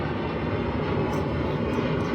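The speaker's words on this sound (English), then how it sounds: "Sorry about the plane." A propeller airplane drones overhead, a steady, full rumbling engine noise that holds evenly throughout at moderate loudness with no one talking.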